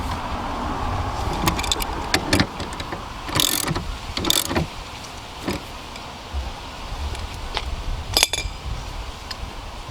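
Ratchet wrench clicking as it tightens a spark plug on a 2009-2015 third-generation Toyota Prius, with short bursts of close metallic clicks and clinks at irregular intervals, no talking.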